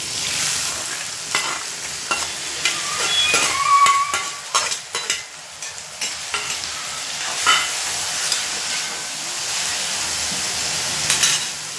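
Moth beans fry in oil in a hot wok for a spicy Maharashtrian matki bhaji. A loud, steady sizzle runs throughout, with clusters of sharp spoon scrapes and clinks against the pan near the start and middle.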